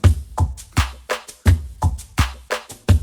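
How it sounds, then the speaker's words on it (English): Loose, swung drum groove with booming kicks, crisp snare and hand-aligned percussion hits, repeating in a steady head-nodding pattern, close and full with no talking. "I've aligned all the percussion parts manually to fit the groove of the drums I initially played"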